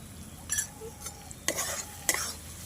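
Spice masala of cumin and coriander powder fries in oil for matar mushroom, a soft sizzle punctuated by several clinking scrapes of a spoon against the pan as it is stirred, heard close with no speech.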